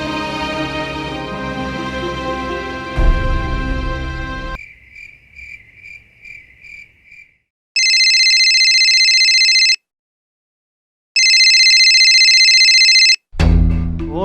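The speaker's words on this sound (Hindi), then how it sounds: "फोन उठा बल्लू।" A phone rings in two long, loud electronic bursts with a gap between them, after a stretch of dramatic music and a chirping tone, from a Hindi TV drama scene.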